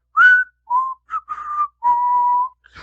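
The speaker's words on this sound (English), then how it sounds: "Well, yeah, that whistle" Person whistling a short tune of five or six clear notes, the last one drawn out, close and loud with no talking.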